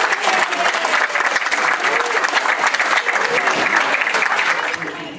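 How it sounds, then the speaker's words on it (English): Loud, enthusiastic clapping from a crowd at a haunted-house themed reunion event, close and dense, with scattered voices and cheers mixed in before it tapers off at the end. "So let's get a warm round of applause."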